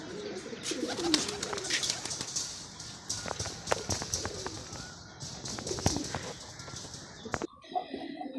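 Pigeons coo softly amid rustling and scattered clicks, with occasional wing flaps and a brief quiet gap near the end.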